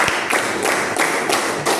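A school class claps together in a steady rhythmic pattern, several crisp, evenly spaced group claps, close and fairly loud, with no talking over them.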